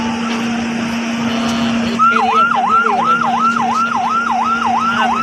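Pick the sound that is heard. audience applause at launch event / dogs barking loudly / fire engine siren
fire engine siren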